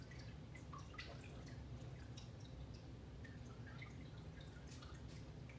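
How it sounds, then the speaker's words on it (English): Excess water drips off a freshly marbled tumbler into a water bucket, a scatter of small, light, irregular drops over a steady low background hum. "Try to get some of the excess to drip off."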